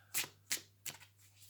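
A deck of tarot cards is riffled and shuffled close up in three quick, crisp bursts about a third of a second apart, against a low steady hum.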